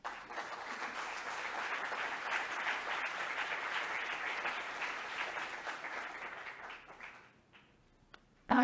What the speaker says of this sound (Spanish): para quienes pido, por favor, un fuerte aplauso